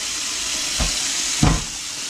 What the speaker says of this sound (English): Here goes some really, really, really hot water.